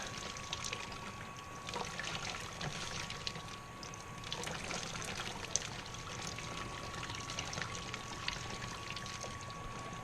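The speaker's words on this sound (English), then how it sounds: "got some grain that I want to kind of rinse on the side of the mash vessel here" Water pouring and trickling steadily as grain is rinsed down the side of a mash vessel during all-grain home brewing, a continuous close splashing stream with a faint steady hum behind it.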